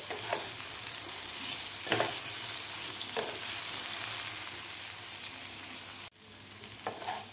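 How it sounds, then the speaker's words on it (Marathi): Soybean chunks fry in oil in a pan over a medium gas flame, giving a steady, close sizzle with periodic stirring scrapes and a short dip in the sound near the end. "मिडियम गॅसवरच आपल्याला हे फ्रा फ्राय करायचे आहेत"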